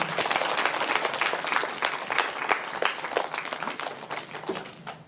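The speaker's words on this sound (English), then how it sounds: "Let's give another round of applause for Mr. Stephen." An audience at a student author showcase for Black Children's Book Week applauds Mr. Stephen with a full round of clapping. Louder individual claps stand out as the applause holds steady, then it eases slightly at the end.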